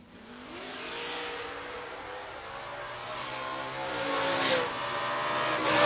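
Two Camaro drag cars launch side by side at a footbrake drag racing event, engines roaring loud and close with rising harmonic revs that climb steadily as they pull away down the strip.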